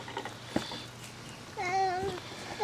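Cats meow on a farm while fed chicken scraps after butchering, a couple of short nearby meows amid faint background noise.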